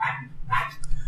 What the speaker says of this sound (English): you're just barking in agreement